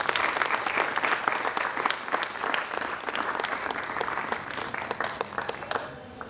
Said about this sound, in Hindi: मैं सीताराम सोनी जी के लिए मैं चाहता हूं कि एक बार ताली हो जाए